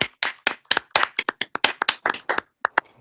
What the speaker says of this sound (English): So let's have a round of applause for Yusuf Joe Qassam.